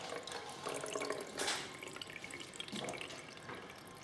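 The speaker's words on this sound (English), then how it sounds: "So the water goes in here at the bottom" Water pours and splashes into the tank of a Cleanmaxx steamer, a close gurgling stream with brief drips, without talk.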